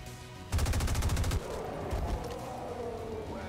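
Rapid burst of automatic gunfire in XCOM 2, about ten close, loud shots in a fast even rhythm lasting under a second, then a lower lingering rumble and ambient game tones.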